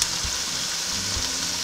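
Crayfish sizzles as it fries in an egusi mixture, a steady close frying hiss with faint stirring thumps underneath.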